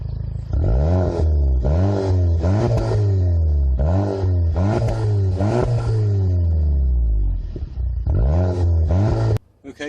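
A 2018 VW Golf GTI Variant estate, parked, is revved repeatedly through its exhaust, a series of loud rising and falling engine sweeps close by that stop abruptly at the end.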